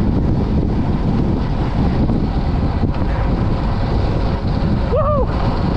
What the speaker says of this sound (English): the wind was in totally the wrong direction